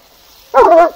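A dog gives a sudden loud, close bark or yelp after near silence, one sharp burst with a whining tone.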